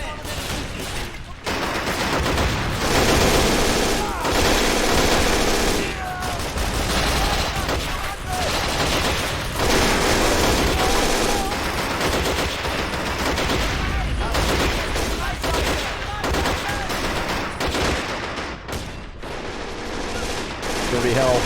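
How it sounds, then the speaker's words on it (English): Battle in Men of War: Assault Squad 2 at Stalingrad in 1942, with an anti-tank rifle firing at a tank amid loud, dense, continuous gunfire and explosions, faint voices mixed into the din. "Switch to AT rifle and put some rounds in that tank."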